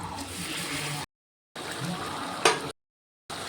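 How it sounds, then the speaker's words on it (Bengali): Hot water poured into a pan of braised chicken with potatoes and onion, a loud hissing sizzle and bubbling in short bursts separated by abrupt silences. "আমি একটা পেঁয়াজটা সেদ্ধ হওয়ার জন্য গরম জল দিয়ে দিলাম"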